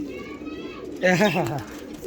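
A pigeon coos once in a close, wavering rolling call lasting about half a second, with someone talking across much of the clip.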